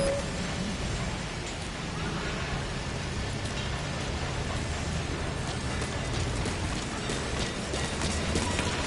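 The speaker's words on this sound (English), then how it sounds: "Caution, rain approaching." Steady rain pours down in a dense, even hiss in the video game Metal Gear Solid V: The Phantom Pain, with faint low rumbling underneath and no pauses throughout.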